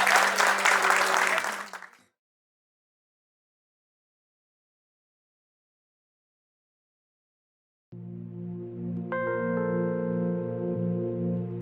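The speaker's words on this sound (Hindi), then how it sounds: "जोरदार तालियां गुड्डू जी के लिए" An event audience claps loudly for Guddu ji, a dense burst of applause lasting about two seconds before silence, followed later by sustained music.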